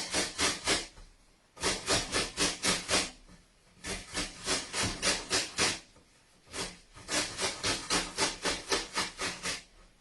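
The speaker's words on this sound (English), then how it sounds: "I've washed these apples. I'm now going to grate each side." Washed apples are grated for a beetroot and apple coleslaw, giving bursts of quick rhythmic rasping strokes in several runs with short pauses between them, close and clear with no talk.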